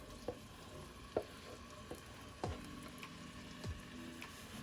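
Faint sizzling of onion and scallion in a pan, a soft steady hiss with a few scattered clicks and light taps of stirring, no voices.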